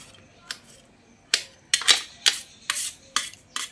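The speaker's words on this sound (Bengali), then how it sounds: "এখন এগুলোকে এইভাবে ছোট ছোট করে কুচি কুচি করে নিতে হবে।" Banana flower being chopped finely with a knife, giving about eight crisp, sharp cuts at an irregular pace, close up with no talking.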